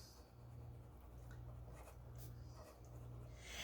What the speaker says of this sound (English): I'm just going to write it on this.